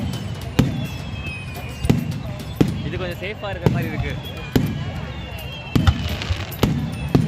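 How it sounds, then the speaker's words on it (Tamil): Firecrackers burst at a Mariamman temple festival in Karur: sharp, loud bangs crack out roughly every second, some doubled, over crowd noise while a person talks nearby. "ஆரம்பிச்சாங்கன்னாவே பட்டாசு கிளப்பிடுவாங்க"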